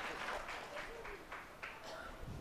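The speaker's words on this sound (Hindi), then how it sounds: "इसके लिए भी एक बार ताली।" A crowd at a Guru Purnima festival gathering in Parbatsar, Nagaur, Rajasthan claps in a soft, continuous patter of applause heard from some distance, with faint voices mixed in.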